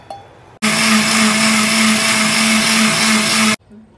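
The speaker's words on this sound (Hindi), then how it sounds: "मुझे मिक्सी में पीसा हुआ ज़्यादा पसंद है और इसमें अच्छा भी पीसाता है ये सूप" A mixer grinder blends tomato carrot soup in a kitchen, starting abruptly with a loud, steady whirring roar and a constant motor tone that runs for about three seconds before cutting off sharply, with no talk over it.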